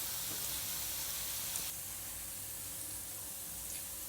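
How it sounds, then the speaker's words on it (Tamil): Cauliflower pieces frying in hot oil for a spicy Gobi Manchurian, giving a steady broad hiss and sizzle that drops slightly in loudness midway and then continues evenly. "எண்ணெய் காஞ்சதும் இந்த காலிஃப்ளவர் எடுத்து போட்டுக்கோங்க."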